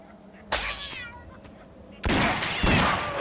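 A cat meows in the video game Postal 4, its cries mixed with loud bursts of game noise that land in two heavy blasts, with a faint voice or sound underneath.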